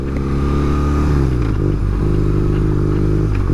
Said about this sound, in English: Let's go off-roading, team, in my R9T.